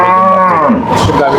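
A young bull calf on a dairy farm gives a single loud, close moo that slides downward and then rises again, filling the short moment on its own.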